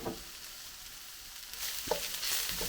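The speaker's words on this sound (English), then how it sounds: "always when you're busy frying stuff in a wok, this is kind of medium heat" Konjac noodles sizzle steadily over medium heat in a hot wok, with a few brief scraping stirs breaking through the constant frying hiss.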